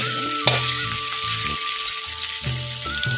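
Karonda fruit pickle sizzling and frying in a pan while being stirred, steady close hiss with scraping stir strokes throughout, no talking.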